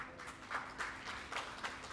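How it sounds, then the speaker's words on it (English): Light, moderately distant clapping from a conference audience welcoming panelists onto a stage at a smart cities session, a few claps standing out in a brief steady patter. "Can I have a round of applause,"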